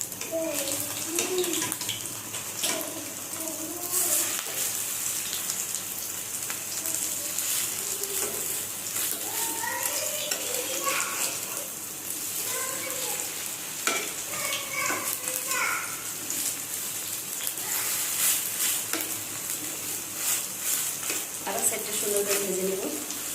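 Cabbage pakoras frying in hot oil, a steady crackling sizzle with occasional stirring and utensil scrapes, heard up close throughout.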